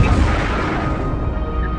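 A huge Big Bang explosion effect roars as a dense, loud broadband rumble that fades slowly into a low sustained wash.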